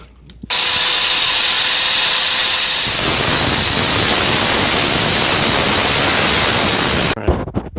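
Power tool, likely a grinder or cutoff wheel, cutting metal on a 5.8 engine, a loud sustained harsh whine that runs steadily for about seven seconds with a pitch drop partway through, then stops.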